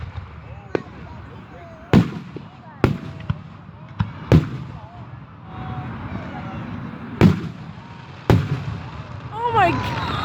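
Fourth of July fireworks burst at a display in Delaware, Ohio, a series of sharp booms at uneven intervals, some near and loud, over crowd murmur and nearby voices chatting.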